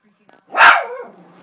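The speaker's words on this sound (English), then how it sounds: "Oh, that's a big dog." A big dog barking on a television, one sharp loud bark standing alone in a short moment.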